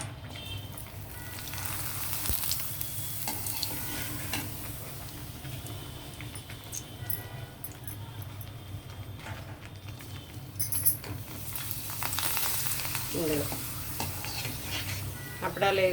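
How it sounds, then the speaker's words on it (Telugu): Papads sizzle and crackle in hot oil with a steady frying hiss and occasional stirring clatter, loud and close throughout. "ఆయిల్ హీట్ అయ్యింది, అప్పడం వేద్దాం"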